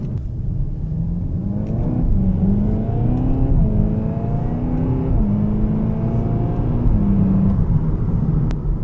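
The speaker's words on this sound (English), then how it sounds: "Right now I'm in Cupra mode. As you heard, there is some sound being played through the speakers." A Seat Leon Cupra 300 4Drive accelerates in Cupra mode with engine sound played through the cabin speakers. A steady interior drone rises in pitch through several gear changes, continuous and moderately loud, with no talking.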